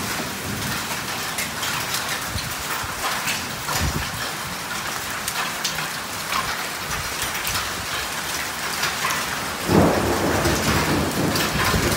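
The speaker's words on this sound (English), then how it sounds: "Heavy storm with hailstone." Heavy rain and hail pound down steadily in a thunderstorm in South West Sydney while thunder rumbles, with a louder crack near the end.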